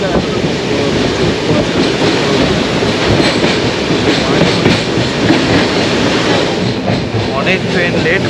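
Sleeper coach of the Paharia Express rolling along with a steady, loud rumble and rattle of wheels on track, continuous and close throughout; the air conditioning is not working.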